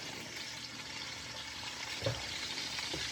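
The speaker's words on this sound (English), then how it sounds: "it's half a cup of oil, and then I'm gonna start with my celery and my peppers and my onion" Celery, peppers and onion frying in half a cup of oil, a steady close sizzle and crackle that runs without a break for a few seconds with no one speaking.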